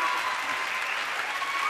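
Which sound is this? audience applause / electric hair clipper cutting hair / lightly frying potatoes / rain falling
audience applause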